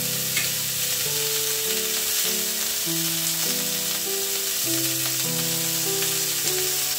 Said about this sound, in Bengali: একটু ঢাকা দিয়ে দিয়ে এটাকে ভাজতে হবে।